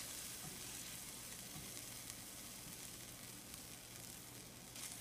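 Yogurt curry sizzles and crackles quietly in a pan while being stirred, a faint steady frying hiss with small irregular pops and scrapes.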